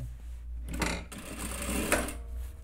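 A sewing machine stitches a fabric mask in short close bursts of rapid needle clatter, broken by brief pauses between runs.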